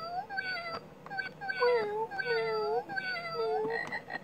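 Cat-like meowing calls, several repeated rising and falling cries close by and fairly loud, presented as a frog croak in a children's animal sounds game; the tone suggests a voice or toy imitation rather than a real frog.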